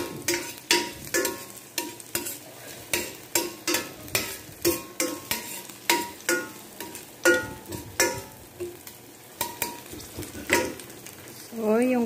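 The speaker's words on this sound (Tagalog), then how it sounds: "Gisa-gisa lang." Garlic sautéing in a frying pan gives a steady sizzle broken by repeated scraping stir strokes in a loose rhythm, close and moderately loud, with no talk over it.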